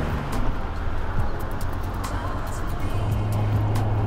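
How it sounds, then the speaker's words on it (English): A Honda Civic EG hatchback with a manual gearbox is floored in second gear, its engine a steady, moderately loud drone that rises in pitch toward the end, with faint outdoor background behind it. "Second gear. Foot buried to the floor."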